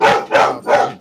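Three loud, close dog barks in quick succession, evenly spaced within a second, with a brief spoken word overlapping.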